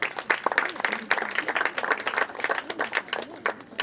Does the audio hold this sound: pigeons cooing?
no